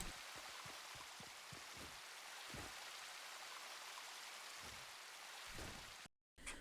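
Steady broadband rushing of a flowing waterfall in Fortnite Creative, continuous and moderately loud with faint droplet patter, cutting out briefly near the end.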